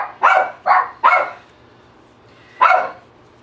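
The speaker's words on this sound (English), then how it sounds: "Pardon the dogs. They're really excited." Excited dogs barking indoors, three quick sharp barks in a row followed by a pause and one more loud bark, close to the listener with quiet room tone between.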